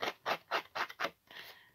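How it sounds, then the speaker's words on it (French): School scissors blade rapidly scraping two small paper pieces, five quick rasping strokes close up followed by a softer, steadier scratch. "on va venir gratouiller rapidement nos deux morceaux."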